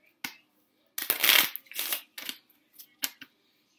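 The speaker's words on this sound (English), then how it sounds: "So first off, you're going to shuffle up your cards." A deck of playing cards is shuffled by hand at a tabletop for a math card game, heard as a few close, crisp riffles and short flutters separated by brief pauses.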